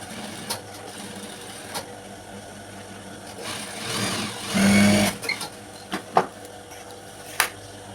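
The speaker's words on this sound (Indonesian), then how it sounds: "Jadi kita jahit dari sini" A sewing machine stitches a seam on a high-school skirt in a brief burst of running stitches near the middle, framed by quieter handling noises and a few sharp clicks.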